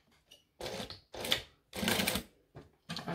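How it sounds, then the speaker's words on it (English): Sewing machine top stitching a wallet, running in short separate bursts of rapid mechanical chatter with brief pauses between them, close and fairly quiet. "And then we are going to top stitch."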